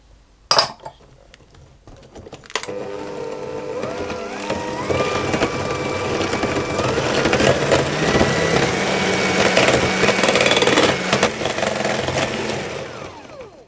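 Electric mixer beating eggs one at a time into creamed butter and sugar for malted milk and chocolate chip cookie dough, a steady whirring drone with clattering bowl knocks, running loud and continuous after a brief start.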